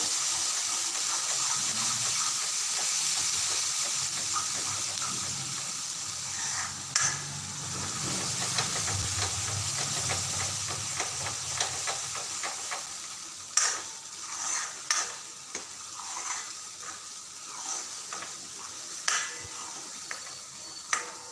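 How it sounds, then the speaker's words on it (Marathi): Khandeshi black masala spices roasting in a pan over medium flame, with scraping and clinking stirring strokes and a soft sizzle throughout, the stirring sharper and more distinct in the second half. "त्याला व्यवस्थित असा भाजून घ्यायचा मसाला भाजत असताना आपला गॅस मध्यम आचेवर राहू द्यायचा"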